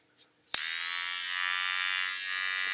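An electric pet grooming trimmer for a puppy switches on after a couple of soft clicks and buzzes steadily and close with a high, even whine.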